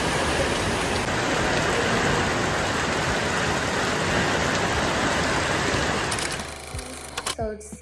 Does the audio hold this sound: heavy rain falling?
yes